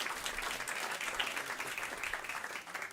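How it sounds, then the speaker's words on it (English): A conference audience applauds continuously, dense clapping holding steady throughout with only a slight dip near the end. "Keep the applause going."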